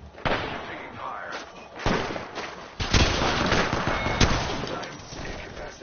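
Gunfire in a video game firefight, several sharp loud bursts and single shots with a heavy impact near the start and repeated volleys after, close and punchy, with bits of voice mixed in.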